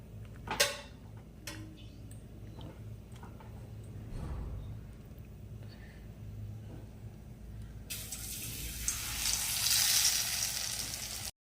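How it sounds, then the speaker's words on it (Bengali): Pumpkin flower fritters in gram flour batter frying in oil in a wok, a quiet continuous sizzle with scattered ticks and clinks, swelling into louder, brighter hissing toward the end, no talk. "হয়ে গেল আমার কুমড়ো ফুলে বড়া ভাজা"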